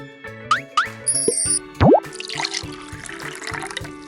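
Cartoon water is poured into pizza dough ingredients in a children's cooking game, with bubbly plops and a rising pour followed by a splashing hiss, all over light music and chimes.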